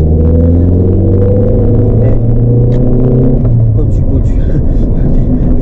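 A third-generation Honda Accord accelerates, its engine note rising in loud steady harmonics heard from inside the car, with a brief shift and someone talking over it.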